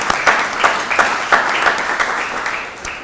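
Applause from an alumni awards ceremony audience, a steady wash of many hands clapping at once, loud and close, with no voices.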